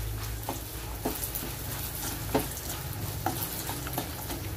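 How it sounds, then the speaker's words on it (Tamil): Turmeric powder being stirred into a tempering with curry leaves for lemon rice, a soft steady sizzle with regular light spatula strokes against the pan over a low background hum. "மஞ்சள் தூளை கிளறி விட்டுக்கலாம்"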